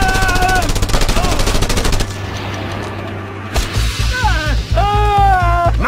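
Mounted gun firing in the video game Just Cause 2, a loud sustained burst of rapid automatic fire up front, then a break and further bursts mixed with game effects and a voice.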